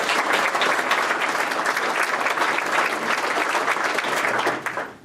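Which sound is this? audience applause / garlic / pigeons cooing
audience applause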